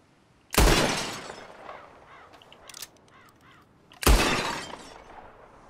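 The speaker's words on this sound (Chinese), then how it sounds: "Whoever shoots more of these bottles wins." Two sharp gunshot cracks about three and a half seconds apart shatter glass bottles in the video game Red Dead Redemption 2, each burst decaying quickly, with brief faint game sounds between them.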